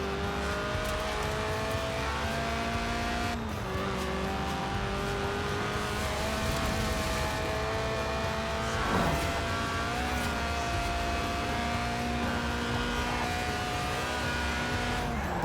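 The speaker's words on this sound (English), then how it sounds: "the Lotus Elise, a 90s classic based on the age-old roadster recipe. 2 seats, engine in the middle, rear-wheel drive" A Lotus Elise Sport 190, a stripped-out, track-day 1990s mid-engine rear-wheel-drive roadster, driven in Forza Horizon 4: a steady, loud engine drone holds throughout, shifting pitch briefly near the middle, with no talking.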